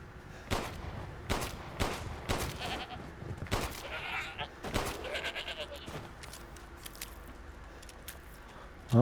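Goat bleating in Resident Evil 8, with several sharp bleats in an irregular rhythm mixed with gunshots and wet squishing game effects, all fairly close.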